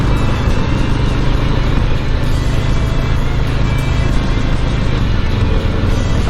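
A 2020 Harley-Davidson Low Rider S merges onto a highway, its engine a loud, constant low rumble buried in heavy wind roar that stays steady and close with no break.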